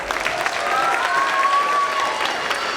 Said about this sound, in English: One more quick round of applause for our third graders and Mr. Beal.